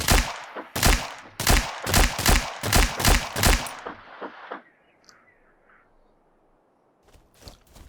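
An MK2 rifle in the survival game Miscreated fires about nine sharp, loud shots in a steady, quick cadence, then a quiet decaying tail with faint clicks, followed by a couple of softer sounds near the end.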